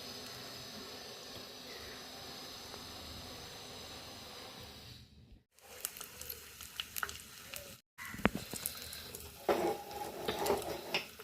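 Beef sizzles and fries in a clay pot for a country-style buffalo roast, with dried chillies, shallots and curry leaves in the mix. A steady close crackle is broken by two brief silences, followed by scraping and clattering stirring sounds.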